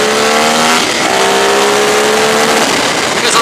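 A Ducati 848 Streetfighter motorcycle revs hard, its loud, close engine note climbing in pitch through a gear, then dropping and rising again in a raw, sustained howl.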